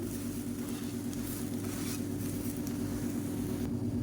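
A sprouted green gram and egg pancake fries in a pan after being flipped and pressed down, giving a steady, close sizzle that holds evenly throughout with no talking.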